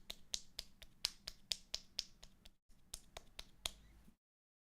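A few people give a slow, sparse golf clap after a football match win, a dozen or so soft, separate claps in a loose rhythm with a brief gap near the end before stopping.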